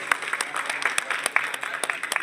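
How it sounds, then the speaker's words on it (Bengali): Scattered clapping from a small crowd at a pigeon club prize distribution, loose irregular claps with uneven rhythm, fairly close and moderate in level. "হাততালি সবাই দেবেন"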